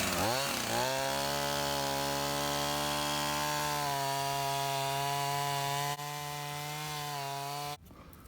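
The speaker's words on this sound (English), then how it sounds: "we'll demonstrate how badly it cuts when you try to cut through a log" A chainsaw with a dull chain revs up then bogs into a log, a loud sustained buzzing drone that holds steady for several seconds before dropping in level and cutting off abruptly near the end.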